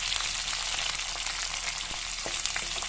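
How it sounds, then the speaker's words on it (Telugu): Garlic cloves frying in a hot pan for a guthi dondakaya fry, giving a steady, close sizzle with crackling pops and occasional stirring scrapes, no talking. "ఇప్పుడు ఈ వెల్లుల్లిపాయలు వేసేసుకొని వేయించుకోవాలి."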